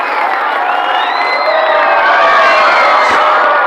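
A school campus crowd at an award ceremony bursts into loud cheering, whoops and shouts from many voices, sustained throughout at close range.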